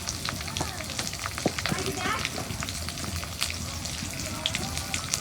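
Garlic paste and green chili paste, added with ginger paste for a chicken and cauliflower curry, sizzle and crackle steadily in a hot pan, a dense close-up frying hiss with scattered pops.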